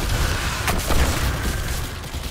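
Gunfire in Destiny 2, loud dense bursts with a couple of sharp cracks over a continuous rumbling barrage, close and with no talk.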